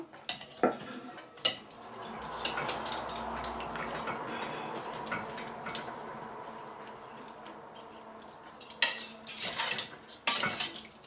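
Utensils clatter and scrape against a pot as carrots are lifted out of pork hock and trotter stock being boiled for aspic, with sharp metallic clinks at the start and end around a steady bubbling simmer.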